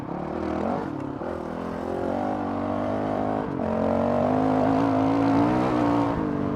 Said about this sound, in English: for a 4-stroke, like 450, you're gonna have some a little snappy throttle